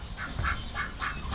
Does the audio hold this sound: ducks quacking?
yes